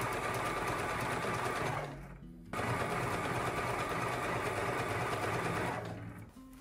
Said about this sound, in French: je suis en train de faire les surpiqûres que je fais au triple point sur ma machine